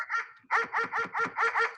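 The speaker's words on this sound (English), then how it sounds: "one more excuse to use the dog sound" A dog barking sound effect: a short yip followed by a rapid run of five or six loud, evenly spaced barks, close and alone with no talk.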